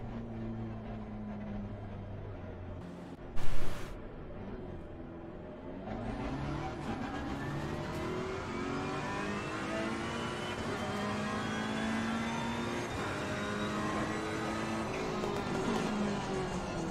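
Ferrari 488 GT3 engine in a racing video game on the Hungaroring circuit, a loud continuous roar with rising revs and gear changes after a brief quieter stretch, near and steady throughout.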